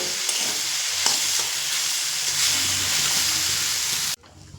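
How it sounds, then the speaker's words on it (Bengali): Milk added little by little to a hot pan while stirring for a sweet roll filling, a continuous hissing sizzle with occasional stirring scrapes that cuts off abruptly near the end. "অল্প অল্প করে দুধ দেব আর নাড়বো"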